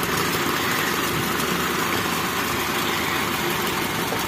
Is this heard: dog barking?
no